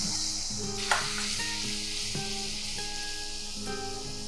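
Onion and green chilli paste sizzles in a hot pan with a steady, close hiss and occasional stirring scrapes, while faint sustained tones sound in the background.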